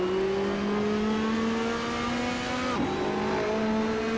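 A Ferrari 458 GTLM race car engine in Assetto Corsa holds a loud, sustained high-revving drone that pitches up steadily, with a brief gear-change dip partway through, close and continuous.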